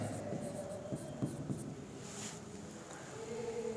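Pen or marker writing by hand on a surface during a maths lesson, a series of soft scratchy strokes in short bursts, close and quiet, with no talking.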